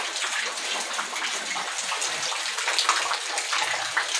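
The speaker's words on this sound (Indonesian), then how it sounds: "Ke atas kayaknya hujan nih" Steady rain heard from indoors in a house, coming from the floor above, a continuous broadband wash of falling water with fine patter and no talking.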